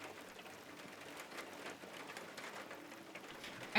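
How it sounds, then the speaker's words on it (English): Rain falls on a garden in the video game Detroit: Become Human as a faint, steady patter that stays low and continuous throughout, with no talking. "it looks way less pretty with all the rain going on"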